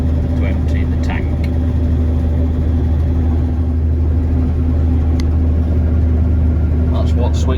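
A combine harvester's engine runs steadily on a farm, a loud continuous low rumble and hum with light rattles, close by throughout.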